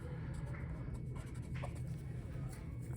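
Pen or pencil writing by hand while working a geometry quiz review, soft scratchy strokes over a low steady background hum.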